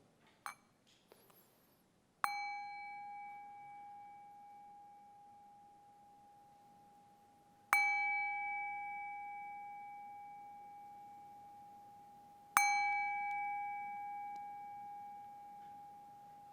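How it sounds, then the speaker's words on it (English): A meditation bell struck three times, each ring a clear sustained tone slowly fading into quiet before the next strike. "So when you hear the bells"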